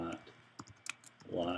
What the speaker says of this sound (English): I'm typing too long today.